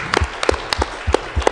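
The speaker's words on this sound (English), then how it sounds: "Just a round of applause if you" Sparse applause from an audience at a university forum on the Alaska gas pipeline, a handful of separate claps scattered unevenly, fairly faint and brief.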